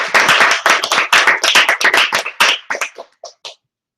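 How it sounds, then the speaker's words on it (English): Crisp, close handclaps at an evening speech-club meeting honour the speakers: a brisk, even burst of clapping that thins out and ends in a few scattered final claps. "So let's give them a big applause."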